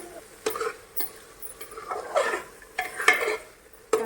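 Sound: stirring onion-tomato masala with homemade chili powder in pan

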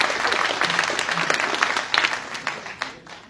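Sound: audience applause for the presenter

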